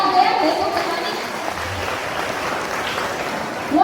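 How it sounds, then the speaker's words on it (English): An audience at an Independence Day celebration applauds dancers after a performance, a steady wash of clapping that carries through the whole stretch at moderate loudness, with crowd noise mixed in. "Please give a huge round of applause for your dancers."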